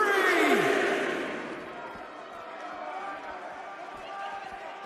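A wrestling arena crowd in WWE 2K19 roars steadily in the background of an event set in Austin, Texas, starting with a swell and then settling into a sustained murmur while a commentator talks over it.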